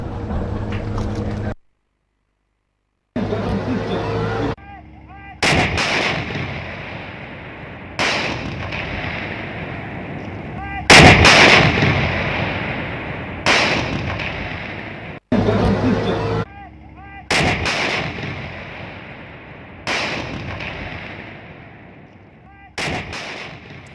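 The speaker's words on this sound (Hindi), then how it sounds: "किस तरह से ये गन जो है वो धमाकेदार फायर करती है" Indian Army howitzer artillery fires repeatedly, each booming blast followed by a rumbling echo; the loud shots come at irregular intervals, one after another.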